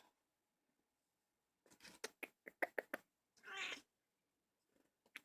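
A pet cat meows several times in quick succession, short close bursts, followed by a longer drawn-out cry, with near silence before and no talking.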